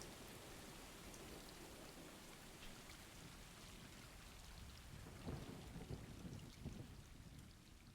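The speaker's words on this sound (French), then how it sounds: "Et il pleut, c'est pas beau." Steady rain and rolling thunder fill a stormy scene in the video game Stray, a dense, faint hiss of rainfall on surfaces with low rumbles swelling toward the end, no voices.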